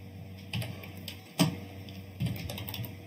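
Typing on a computer keyboard while entering a command-line instruction, a few sparse soft key clicks heard close and alone, with one sharper keystroke in the middle.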